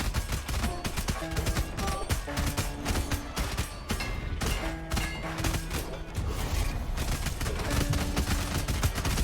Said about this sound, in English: Swords are falling from the sky.